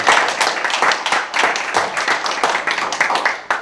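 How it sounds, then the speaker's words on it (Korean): Audience applause at a Korean donation ceremony for a welfare center for the visually impaired, honoring a congratulatory speaker: dense, steady clapping from a seated crowd filling the room, rippling evenly for several seconds. "뜨거운 박수 한번 드리겠습니다."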